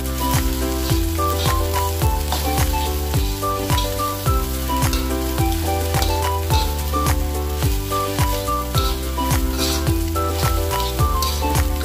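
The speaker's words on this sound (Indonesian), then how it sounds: "Kita aduk-aduk nasinya sampai tercampur dengan telur dan bumbunya." Rice with egg and spices stirred in a frying pan for Indonesian village-style fried rice, a steady close sizzle with scraping, partly masked by rhythmic background music.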